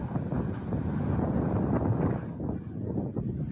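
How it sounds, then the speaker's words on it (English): Deep wind gusts buffet the microphone in a loud, continuous low rumble during a storm that collapsed a highway bridge, with no speech heard over it. "Deep wind."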